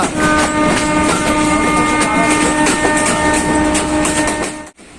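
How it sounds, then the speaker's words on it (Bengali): Steady, loud rhythmic clattering of a train rolling over rails, with a continuous mechanical rumble and brief dip near the end. "ট্রেনের এই ঝকঝক শব্দ আমার কাছে কিন্তু অসাধারণ লাগে"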